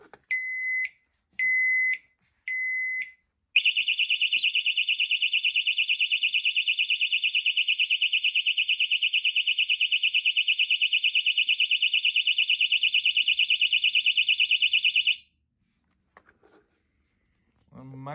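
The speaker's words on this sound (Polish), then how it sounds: "Aktywujemy syrenę alarmową." A shrill electronic alarm siren from a Kovix KD6 brake disc lock gives three short beeps, then blares a continuous piercing pulsing tone, over 120 dB up close, for about ten seconds before cutting off, followed by brief talk.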